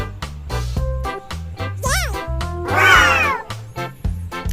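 A cat meows several times in distinct, rising-and-falling cries, near and fairly loud, over a steady rhythmic background beat.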